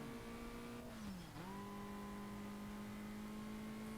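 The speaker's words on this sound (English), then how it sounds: "riding with the Mazda Speed 3 in the speed event" A Mazda Speed 3 engine drones steadily in an NFS ProStreet speed event, its pitch dipping briefly around a gear shift before holding a constant high-revving whine, close and sustained with no talking.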